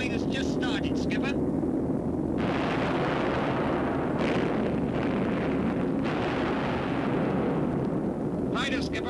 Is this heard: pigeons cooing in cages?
no